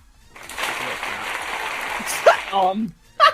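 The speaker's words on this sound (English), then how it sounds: "a slight clap for you. Slightly delayed." A short burst of scattered clapping, like a few people applauding lightly, fades out and gives way to brief talking.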